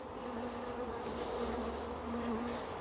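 Honey bees buzz continuously and close by at an open queenless hive, a dense droning hum with a brief louder swell in the middle.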